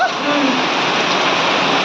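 Heavy rain pours down steadily on a roadside with trees and floodwater covering the ground, a dense loud hiss filling the whole moment, with a brief voice fading at the start.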